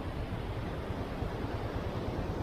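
Rushing stream water and a waterfall beside a hill road in Idukki make a steady, dense broadband roar with no pauses, fairly loud and close.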